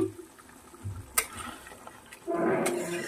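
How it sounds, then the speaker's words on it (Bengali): Around a cup of hot water poured into a pan of mixed vegetable curry: quiet kitchen ambience, then a soft, steady splashing pour near the end. "আমি 1 কাপের মতন গরম জল দিয়ে দিলাম।"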